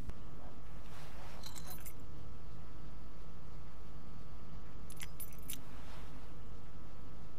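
Keys jangling as they are picked up from an ashtray, two short metallic rattling bursts several seconds apart over a steady low background hum.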